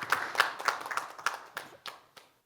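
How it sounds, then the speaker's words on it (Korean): Short, light clapping from a small audience at an intellectual property strategy forum, a few scattered claps over about two seconds that die away quickly. "박수 한번 쳐주시죠."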